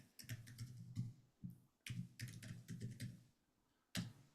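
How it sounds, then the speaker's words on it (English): Computer keyboard typing in irregular quick bursts of clicks with short pauses between, close and quiet. "I'm going to type it in."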